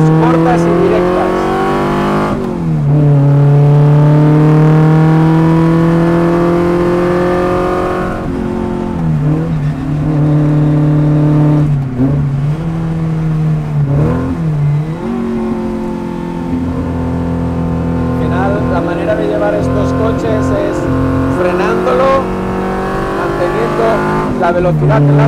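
An Abarth race car on a circuit accelerates hard through repeated gear changes, its engine rising in pitch again and again and then dropping, loud and close throughout, with faint tyre noise and no talking.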